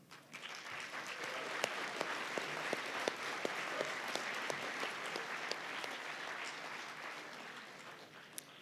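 An audience at the John Deere Ag Expo keynote applauds steadily for several seconds, a dense crowd of clapping hands heard from within the room, with no one speaking over it.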